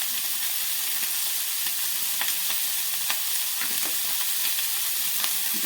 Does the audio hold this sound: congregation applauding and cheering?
no